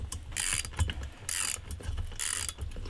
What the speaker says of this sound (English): then tighten the nuts and bolts